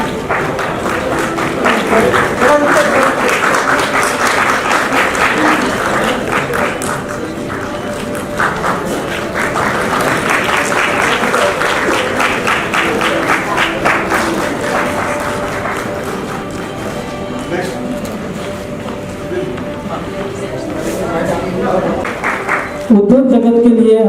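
An audience applauds at the National Excellence Award 2023 ceremony in India, with a dense sustained round of clapping from a crowd that continues for over twenty seconds before ending with a sharp change in sound.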